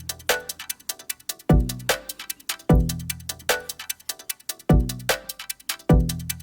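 Drum loop processed through a MIDI-triggered resonator EQ, with ringing tuned peaks shifting by chord; punchy kicks about every 1.2 seconds and busy hats and snares in a steady, loud pattern, no talk.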